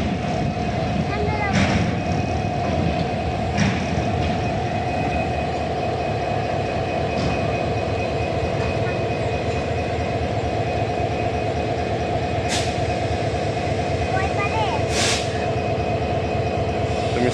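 A train engine turns on a turntable at a rail workshop, producing a loud continuous mechanical rumble and drone with rhythmic clanking, a steady tonal whine and occasional sharp metallic squeals and bangs, with voices heard over it.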